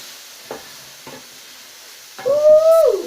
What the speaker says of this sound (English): Now I'm going to stir this around a little bit.